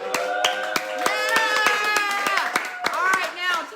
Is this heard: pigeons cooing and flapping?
no